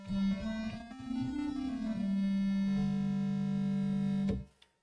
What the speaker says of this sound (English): that's supposed to sound like a woodwind instrument